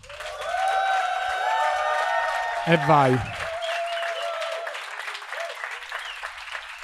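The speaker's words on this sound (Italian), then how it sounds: "Applauso." Clapping and cheers from a live studio audience at a comedy podcast recording, sustained applause throughout with a voice speaking briefly over it.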